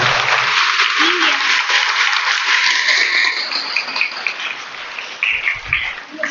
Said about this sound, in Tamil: நல்லா கைதட்டுவோம் நம்ம பிள்ளைகளுக்காக.